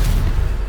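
The Stupefy spell strikes in Hogwarts Legacy with a heavy booming blast, a loud, thick rumble filling under a second, close and without voices.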